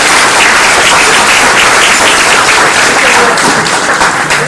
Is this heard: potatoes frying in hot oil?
no